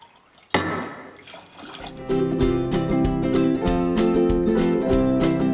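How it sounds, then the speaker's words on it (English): Water pours steadily into a bowl of grated fresh coconut after a sharp clunk, a continuous splashing gurgle that grows fuller over several seconds. "Now I added 4 cups of water."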